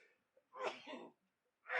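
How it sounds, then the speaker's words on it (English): A single loud sneeze bursts out close to the microphone, with a sharp intake of breath before the main explosive release and a second gusty burst at the end. "I feel like I'm gonna sneeze really loudly"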